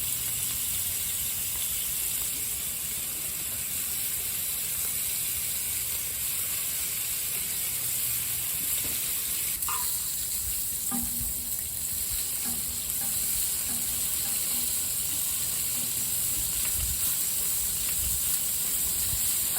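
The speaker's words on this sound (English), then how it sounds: "I'm getting some bacon going for the potatoes. I really should have waited a while before I cooked it, but I was ready to try that griddle out" Bacon sizzles and hisses continuously on the griddle of a reverse-flow smoker, a steady close-up crackle with small pops scattered through it.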